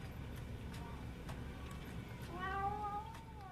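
A cat meows in a short drawn-out call near the end, set against a steady low background hum with a few faint ticking clicks.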